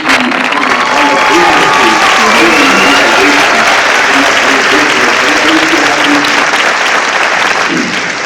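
A crowd at a poetry recital bursts into loud, continuous applause. The thick clapping keeps up for the whole stretch, with shouts and voices mixed into it.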